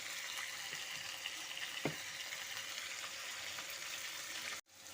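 Chicken pieces and chopped onion frying in a pan over medium-high heat, giving a steady, close sizzle with faint stirring clicks throughout, briefly cut off near the end.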